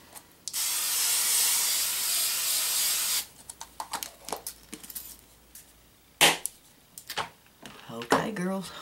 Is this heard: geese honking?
no